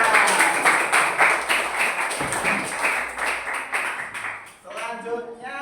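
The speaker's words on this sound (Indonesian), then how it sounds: "Beri tepuk tangan." Classroom applause: a room full of students claps in a dense, fairly loud burst that fades after a few seconds, then a voice starts talking.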